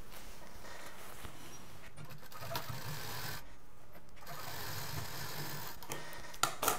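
A domestic sewing machine stitches fabric for an iron cover, a close, fairly quiet mechanical whir and needle clatter running steadily with a few brief pauses and small clicks near the end.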